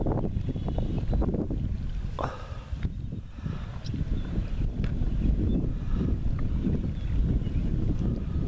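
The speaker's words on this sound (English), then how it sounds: "Quite windy today" Gusty wind buffets the microphone outdoors on a blustery day of sailing a model tugboat, a constant rough roar with brief swells and no speech.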